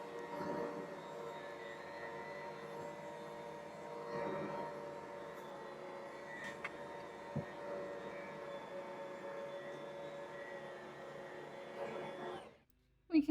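A bread machine kneads whole wheat dough as flour is added, giving a steady low motor hum and churning that runs continuously before cutting off abruptly near the end.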